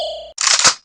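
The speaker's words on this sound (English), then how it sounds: "Rocket launcher." Rocket launcher effect from the Metal Slug arcade game: a brief electronic tone gives way to a loud, bright whooshing burst under a second long, heard alone.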